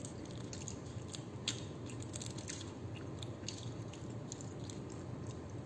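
Walnuts chewed close to the mouth, a faint continuous run of small crunching and squishy bites over a low background hiss, with no talking.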